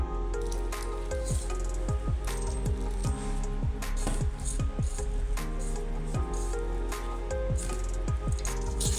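Rice flour dough for Telangana sarvapindi being mixed by hand with hot water, giving a steady run of close, wet squelching and squishing sounds with no talking.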